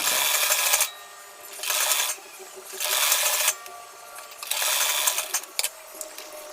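A sewing machine runs in several short bursts, stitching a quarter-inch folded fabric hem on a co-ord suit, its close whirring rising and stopping between pauses.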